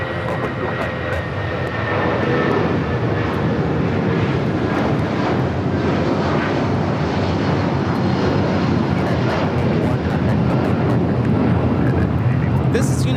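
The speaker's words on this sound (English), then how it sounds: "1981 taking off to Newark on the 757-200." A United Airlines Boeing 757-200 takes off at LAX, its engines building to a continuous, powerful roar that holds loud and steady throughout.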